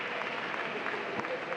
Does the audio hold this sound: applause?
yes